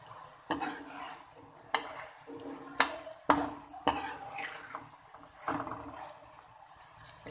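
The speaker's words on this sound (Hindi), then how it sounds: "अब जो है इसमें बंद गोभी डालने लगी। इसे घी में ज़रा फ्राई कर लूँगी।" Shredded cabbage fries in ghee in a pan while a spoon stirs it, with repeated sharp metal scrapes and knocks every second or so over a soft, continuous sizzle.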